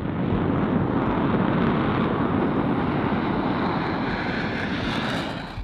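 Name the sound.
Embraer EMB 314 Super Tucano aircraft engine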